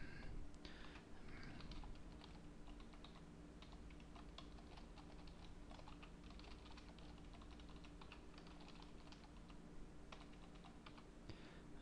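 Rapid keystrokes on a computer keyboard while a username is entered, a steady stream of close, light clicks running throughout with no talking.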